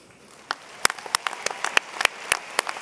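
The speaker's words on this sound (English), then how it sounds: "That absolutely deserves a round of applause." A high school graduation crowd gives scattered, uneven applause, a sparse run of individual claps that starts thin and builds slightly over about three seconds, close but not loud.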